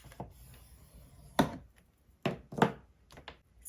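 Paper being scored for a slim pocket folder: a few separate sharp scraping strokes and taps, close and fairly quiet, spaced apart with pauses between them.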